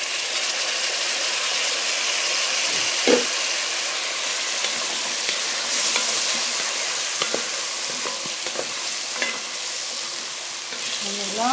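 Masala being stirred in a hot frying pot for Swahili pilau, with a steady sizzle and repeated scraping and clinking of the spoon against the metal pot, close and fairly loud, with no talk.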